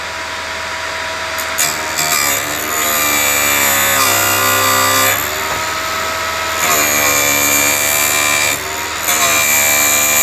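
Vevor drill press running continuously as the bit is fed into the workpiece, a loud steady motor whine with rising and falling harmonic tones and brief pauses between passes.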